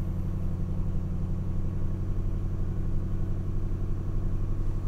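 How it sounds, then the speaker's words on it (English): A 2006 Mustang GT V8 idling cold just after starting with new coils and spark plugs, a steady low rumbling burble with even pulsing, close and alone without talk. "I want to pay attention to the idle, how it's idling"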